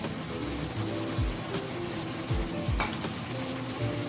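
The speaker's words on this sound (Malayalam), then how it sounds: "ഇപ്പോൾ ഓരോന്നായിട്ട് ഇതേപോലെ ഓയിലിട്ടിട്ട് ഫ്രൈ ചെയ്തെടുക്കാം." Puri frying one at a time in hot oil, a steady soft sizzle and bubbling with occasional low thumps and clinks of a pan, close and continuous without talk.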